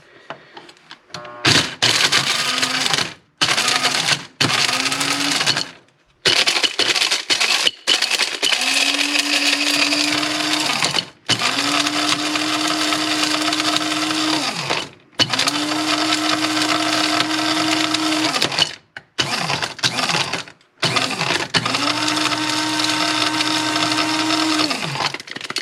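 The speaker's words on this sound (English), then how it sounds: "let's see what happens when we blend them, grind them up a little bit" A blender grinds dehydrated bananas, nuts and pickled peppers in repeated loud close pulses, each burst a harsh whirring roar that rises in pitch, separated by short silences.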